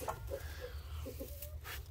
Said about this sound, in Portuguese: Essas galinhas.